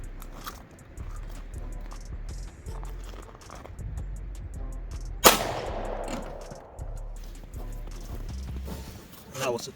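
A single sharp, loud gunshot from a 30 Super Carry pistol cracks at an outdoor range midway through, with its echo trailing off, while people talk nearby amid rustling and handling noise.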